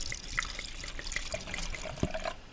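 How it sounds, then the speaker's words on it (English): Wine trickles and splashes into a glass in a brief, close pour, with a small clink partway through. "All right, we're going to pour the wine."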